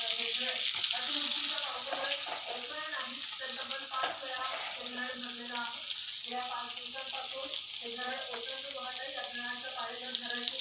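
Onion sizzling in hot oil and butter for pav bhaji, a steady broad hiss of frying running throughout with brief stirring touches and a voice talking over it.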